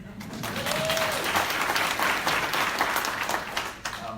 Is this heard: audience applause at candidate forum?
yes